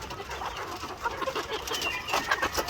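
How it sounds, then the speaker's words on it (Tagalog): White Leghorn and heritage breed chickens clucking on a farm, a scattered run of soft clucks and bird calls at moderate distance. "Itong mga manok na ito ay pwede na itong tawaging RTL."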